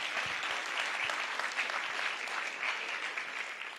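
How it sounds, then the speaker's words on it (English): A school audience at an elementary third grade showcase applauds the Eaton Eagles, many hands clapping in a steady, fairly quiet wash with a few closer claps standing out. "Let's give the Eaton Eagles another round of applause"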